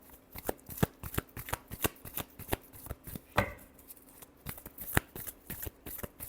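Tarot cards being shuffled by hand, a rapid run of crisp riffling snaps and slaps in an uneven rhythm, close and fairly quiet, with no speech.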